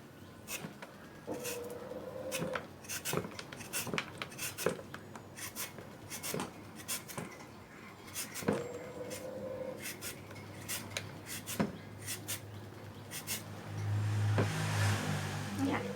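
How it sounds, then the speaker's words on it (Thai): Peeled green mango scraped into strands by hand in a home kitchen, a steady run of short rasping strokes at close range, with a louder rubbing burst near the end. "เดี๋ยวเราจะมาขูดเป็นเส้นๆกันค่ะ"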